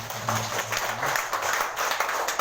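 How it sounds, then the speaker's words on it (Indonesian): A church congregation claps after the sermon at a Sunday service; a short burst of room-filling applause over sustained low musical tones that fade out partway through. "Mari bagi tepukan untuk firman Tuhan."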